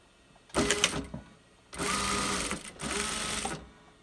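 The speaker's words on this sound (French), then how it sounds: "Si je veux coudre, il faut que j'appuie au fond ici avec mes orteils." An industrial sewing machine runs in close, loud bursts: one short stitching run, then a longer steady run with a brief pause before it stops.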